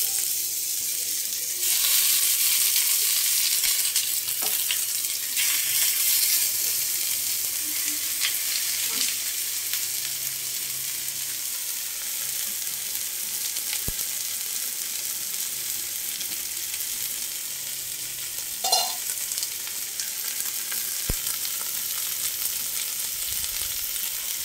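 Prawn paturi frying in mustard oil in a wok over low heat, a soft, continuous sizzle with a few faint clinks and stirring noises along the way.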